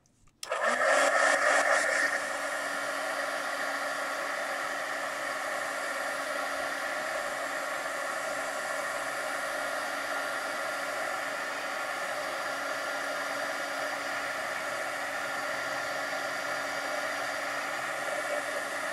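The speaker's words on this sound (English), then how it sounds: "I'm going to hit that with the heat gun" A heat gun blows steadily on wet homemade baby-wipe ink pad ink, a continuous whirring hiss that starts with a brief louder burst and then holds level and close for the whole stretch, with no talk.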